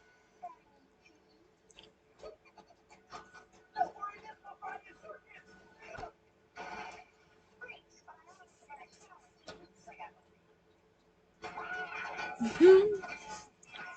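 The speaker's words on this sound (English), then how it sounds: "Cat." A cat meows indoors, one clear, fairly loud call near the end following quiet handling noises and scattered soft sounds in a room.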